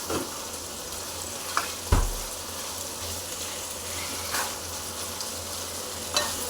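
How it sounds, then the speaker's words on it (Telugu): Curry leaves fry in hot oil for a tomato and green chili chutney, giving a steady, close crackling sizzle throughout with a few sharper pops and stirring clicks, and no voices. "అది కరివేపాకు వేయాలి ఫ్రెండ్స్ ఇలా ఫ్రై చేయాలి"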